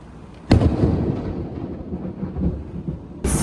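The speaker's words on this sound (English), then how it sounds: "The thunder is literally shaking the ground." Thunder during a storm rolls in with a sudden loud crack, then a deep, sustained rumble that slowly fades before another sharp, heavy burst breaks in at the end.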